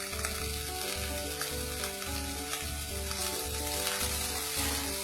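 Zucchini, spring onion and bell peppers stir-fry in a pan over moderate heat. A dense, continuous sizzle fills the clip, with a regular rhythmic pulse underneath it throughout.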